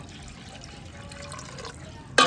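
Water is poured into a cooking pot over a coal fire as fish curry is prepared, a faint trickling that ends in a sudden loud splash.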